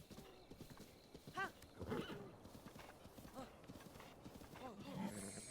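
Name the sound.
horse galloping in video game Breath of the Wild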